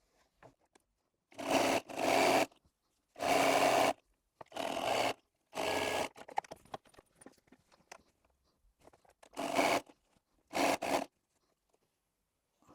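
A sewing machine joins quilt blocks in several short bursts of steady stitching, each lasting a second or so, separated by quiet pauses with light handling noises and no talk.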